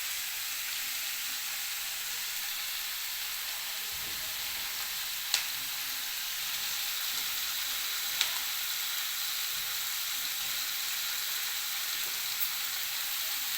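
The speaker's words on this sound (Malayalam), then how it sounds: "ചെറിയ ഉള്ളി, സവാള, പച്ചമുളകെല്ലാം കൂടെ നല്ലോണം വഴറ്റി" Small onions, onion and green chillies sautéing in a pan, with tomato to follow, giving a steady, close sizzle that runs unbroken throughout, with a few faint clicks of stirring and no talk.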